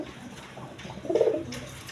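A pair of Giasulli pigeons coo, one soft, rounded coo rising briefly near the middle over a quiet, low background.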